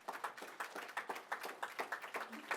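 A small audience at a fintech talk applauding in a thin, quiet patter of individual claps, each one fairly distinct, with no voices over it.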